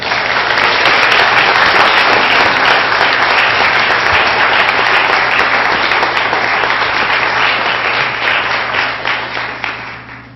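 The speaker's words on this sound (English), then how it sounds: "once again, a round of applause for our spellers" An audience at a 2016 spelling bee claps loudly for the spellers, a full, close round of applause that sustains for several seconds before thinning and fading out near the end.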